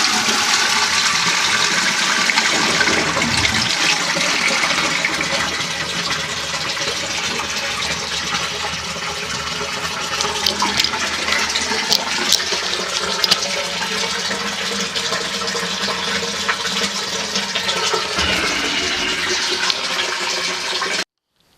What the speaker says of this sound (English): Now we'll flush and see what happens